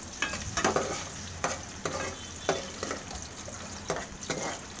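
Garlic and shallots frying in a pan for a Tamil egg kuzhambu, a steady close sizzle with periodic scraping stirs, no voices over it.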